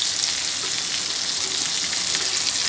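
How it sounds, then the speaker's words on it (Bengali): Tomatoes frying in hot oil in a pan, turned over partway, for a Bengali tilapia fish tail mash: a loud, steady, close sizzle that runs without a break and with no talking. "টমেটোটাকে আমি একটু নেড়ে দিয়ে টমেটোগুলোকে উল্টায় দিয়ে"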